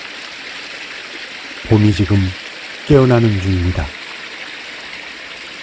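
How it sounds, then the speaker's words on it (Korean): A babbling mountain stream keeps up a steady, even rush of water throughout, with a voice talking over it in two short phrases. "졸졸 흐르는 계곡의 물소리에 지금"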